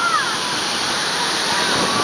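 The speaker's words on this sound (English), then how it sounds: "He's getting his butt kicked by some water." Waterfall at Kanchanaburi, Thailand pouring down onto a person standing beneath it, a loud, steady, broad rush of crashing water filling the whole moment.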